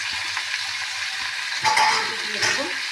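Onion, tomato, garlic and potato fry in a pan with a constant close sizzle, swelling briefly as the food is stirred, no voices.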